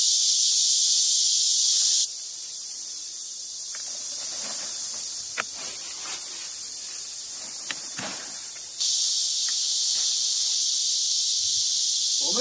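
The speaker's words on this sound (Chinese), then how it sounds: "知了在声声叫着夏天" Summer cicadas drone loudly and continuously in a pumpkin garden, a dense high buzzing that dips for several seconds midway and then surges back, with faint rustling and steps beneath.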